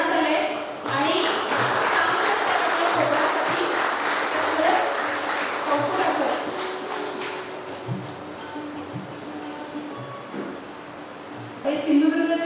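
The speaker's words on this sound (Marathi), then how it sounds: "तुमच्या टाळ्या वाजल्या पाहिजे" An audience applauds at a journalism awards ceremony in Ratnagiri, the dense clapping holding steady for about ten seconds with a voice over it, then thinning out as it ends.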